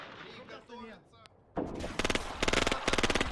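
Rapid machine gun bursts from an MG nest in the wartime strategy game Graviteam, starting after a quieter stretch with faint voices and then hammering in loud, repeated clusters that fill the second half.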